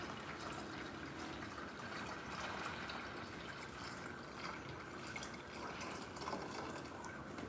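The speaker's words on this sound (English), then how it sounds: "we gotta fill up this water jug" A water jug fills from a tap in a steady, hissing rush of running water, constant and fairly quiet throughout with no talking.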